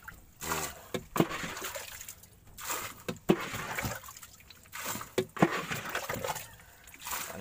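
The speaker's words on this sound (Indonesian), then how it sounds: "Ini air ini penting dibuang biar mesin tidak tenggelam." Dirty water bailed out of a small Meranti wooden boat with an engine, repeated scooping and splashing pours in uneven bursts, close by, with no talking.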